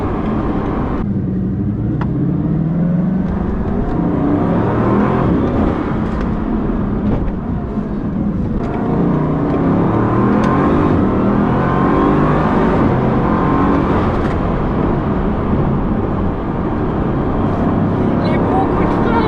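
A Bugatti Chiron's 1,500-horsepower engine revs and accelerates loudly and continuously, a rising roar with people talking over it.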